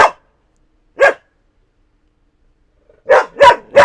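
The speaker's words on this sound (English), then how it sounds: "You gotta stop barking and growling." A dog gives loud, sharp barks, one near the start, one a second later, then a quick run of three after a pause, each clearly separated by silence.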